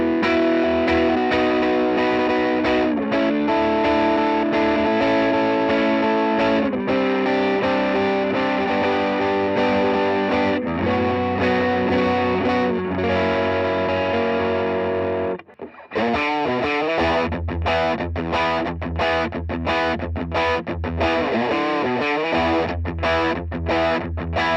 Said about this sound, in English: it's not a heavy distortion, but it's like a classic blues or rock breakup, real crunchy, heavy attack